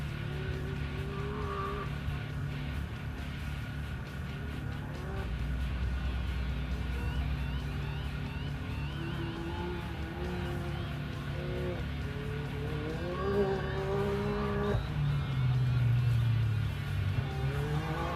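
Chaz Duran drives race car 422 over a dirt off-road course at the Buffalo Chip 100 in Sturgis, South Dakota, his engine revving and dropping in pitch as he rounds corners, with tire scrabble heard beneath a steady distant crowd and track din.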